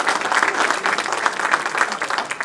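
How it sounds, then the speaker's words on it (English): A festival crowd applauds warmly, with dense, steady clapping close and loud throughout the short stretch and no voices over it. "Can we have another big round of applause for them?"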